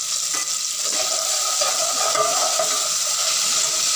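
Green chillies, tomato, salt, turmeric and yogurt frying in a pan for a bottle gourd curry, a loud steady sizzle and hiss with occasional stirring scrapes.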